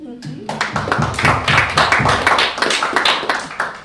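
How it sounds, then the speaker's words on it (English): An audience at an academic talk on the history of plague in sub-Saharan Africa claps for the presenters, a brisk run of fairly close handclaps with voices talking underneath. "Some applause for the presenters again"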